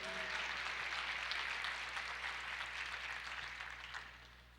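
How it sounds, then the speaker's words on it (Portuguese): Church congregation applauding during a sermon, a broad steady clapping that gradually thins and fades, over a low constant hum. "Você pode aplaudir o Senhor?"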